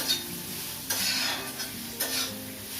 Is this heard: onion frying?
yes